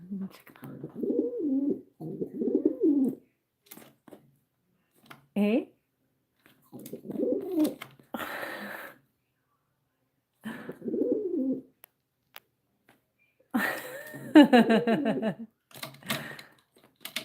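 A pet pigeon coos in soft repeated bursts, several throaty rolling calls separated by pauses, with a few sharp clicks and taps and a person speaking briefly nearby.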